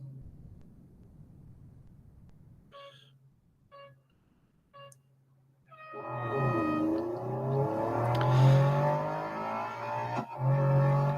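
A Lamborghini Reventon in the Real Racing 3 game, on an autocross time trial: a few short menu beeps, then the engine revs hard and climbs through the gears, loud and continuous.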